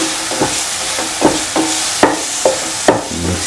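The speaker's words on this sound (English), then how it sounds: "Mix everything together." Ground mixture of tender green mango, ginger and garlic stirred in a pan, a run of rhythmic scraping strokes about every half second over a soft sizzle, close and loud, no voices.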